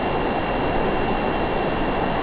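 The Darkstar jet's engine roars as it throttles up in Microsoft Flight Simulator, a loud, continuous broadband rush with a steady whine, unbroken and with no voices.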